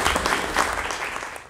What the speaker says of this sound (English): We should give a round of applause to Pepper and the students